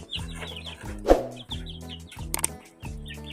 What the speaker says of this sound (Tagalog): Kasi may manok sa baba.